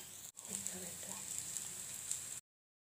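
Beetroot cutlets frying in a little oil over low heat, a soft steady sizzle with faint crackles close by, cutting off abruptly near the end.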